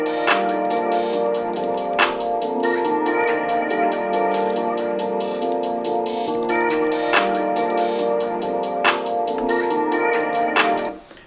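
Crisp hi-hats tick in a fast steady roll while a sharp clap snaps on the backbeat every couple of seconds, layered over held synth chords in an FL Studio trap beat; loud, no talking, cutting off at the end.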